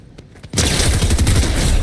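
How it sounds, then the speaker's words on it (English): A couple of faint shots, then a sudden, loud stream of rapid video-game gunfire, close and sustained, with individual cracks running together in a fast automatic rhythm. "Getting shot from the other way."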